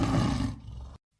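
A tiger gives one loud, close roar that rumbles heavily at first, thins out, and then cuts off abruptly into silence.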